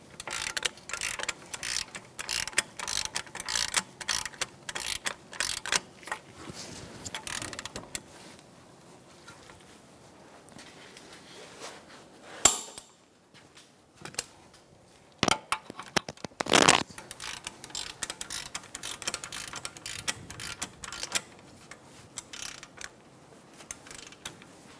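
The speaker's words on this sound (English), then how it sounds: "Tighten these up and torque them to 70 foot-pounds." A torque wrench clicks and ratchets in bursts while tightening hub bolts on a 2014-2019 Kia Soul during a front wheel bearing replacement, close and crisp with quiet pauses between runs.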